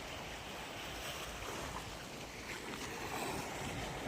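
Sea waves washing against an unfinished concrete seawall and port at a beach in Ulong, Mogpog, a steady broadband wash of surf with wind buffeting the microphone, continuous and fairly loud with no distinct breaks.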